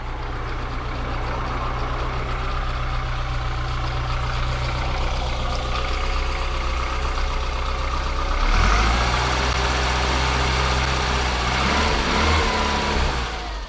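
A 50-year-old Austin Allegro with an A-series engine runs at a steady, loud mechanical idle, then its pitch shifts with a brief rev before settling again, recorded close with no talk.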